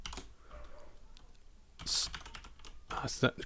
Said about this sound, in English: you'll type in shell